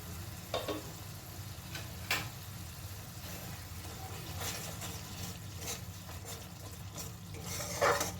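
Malai aloo dum being stirred in a pan over a medium gas flame, with a soft steady sizzle and occasional scrapes and clinks of the spoon against the pan.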